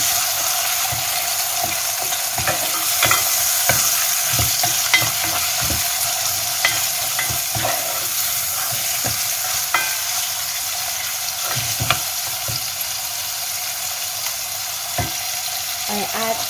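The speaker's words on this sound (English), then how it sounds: "Now I can add the meat. And I fry it with onion." Meat and onion sizzle steadily in a frying pan while being stirred, with frequent scraping knocks from the utensil throughout, for Iranian gheimeh stew.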